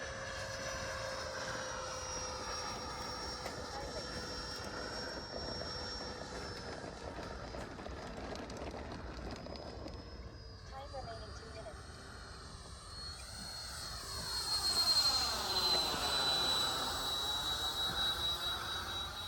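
An AeroScout RC plane with a 64mm electric ducted fan flies past with a whining jet-like whoosh that shifts in pitch and swells louder near the end, while people talk over it.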